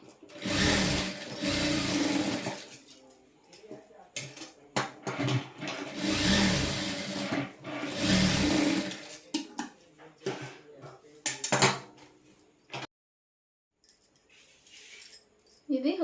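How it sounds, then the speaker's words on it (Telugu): A sewing machine runs fast while stitching a lehenga blouse, in two long loud whirring bursts with shorter runs after, then a brief silence. "వీడియో లెంత్ ఎక్కువ అవుద్దని నేను స్పీడ్ స్పీడ్గా కుడుతున్నానండి"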